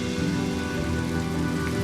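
Rain falling in the Honkai Star Rail video game, a steady dense hiss of drops on surfaces, even and continuous throughout with no voices.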